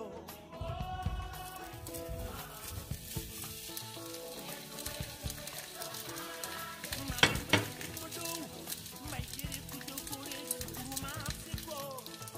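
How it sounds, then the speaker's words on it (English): Sausages fry in hot oil in a preheated pan, a steady dense sizzle and crackle with occasional scrapes and clinks of a utensil stirring against the pan, close and continuous. "And I'm just gonna fry my sausages."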